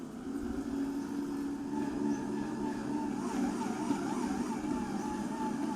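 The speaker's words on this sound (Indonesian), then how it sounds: "Mix dengan kecepatan rendah sampai adonan tercampur setengah kalis." A stand mixer kneading bread dough at low speed gives off a continuous motor hum and whine with a slight wavering pitch, steady and close, with no voices over it.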